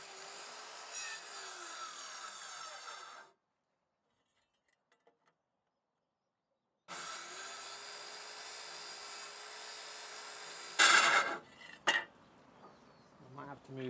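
A saw cuts timber for a timber-frame trestle in log building, running in two long steady whining passes separated by silence, followed by sharp knocks and clatter as the pieces move.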